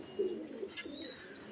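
A Pakistani high-flyer pigeon gives a short, soft coo, a couple of low throaty pulses close by in an otherwise quiet moment.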